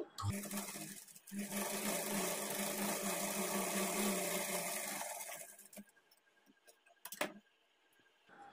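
A sewing machine stitches a blouse belt at a half-inch margin, running in a steady, even whir for several seconds before stopping, followed by a few clicks and handling taps.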